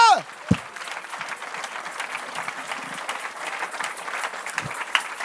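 A congregation at a French-speaking revival meeting in Evry claps and cheers in a steady, sustained roar of applause filling the hall, with a voice briefly calling out over it at the start.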